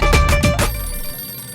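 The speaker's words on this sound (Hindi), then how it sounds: "देख आ गया तेरे मामा का फोन।" A telephone rings in quick electronic bursts, four close chirps in a row, then a lingering tone fades beneath a quiet indoor hum.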